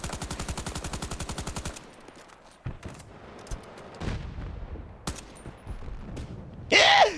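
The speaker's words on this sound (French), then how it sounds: "Ça me tire dessus." Gunfire in the video game Battlefield 2042: a rapid, loud automatic burst at the start, then scattered single shots, booms and distant firing, ending in a harsh loud blast.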